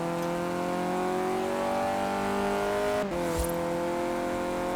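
Cars race in Forza Horizon 4, an engine holding a steady high whine as it accelerates, loud and close, with a brief shift or bump partway through and no talking.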